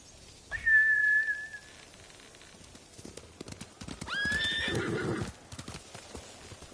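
Two sharp samurai horse whinnies ring out a few seconds apart in the video game Ghost of Tsushima, with hoofbeats and rustling movement in between.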